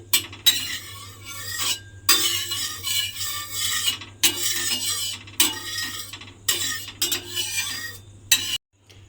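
Oil being spread across an iron tawa griddle with a utensil, giving close, steady scraping and rubbing strokes in several bursts with short pauses, over a low constant hum.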